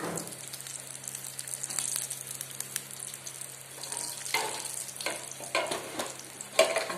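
Chopped kachu greens dropped into hot tempering oil for a sweet banana stem palya, giving a steady moderate sizzle with stirring scrapes and a few louder crackling bursts near the end, no voices.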